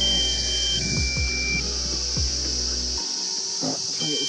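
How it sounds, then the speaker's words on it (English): Short high electronic low-battery warning beeps from a flying drone sound early on against a constant outdoor insect hum, with a few dull thumps and quiet rustling. "I've got the drone up in the air with low battery. That's what the beeping is."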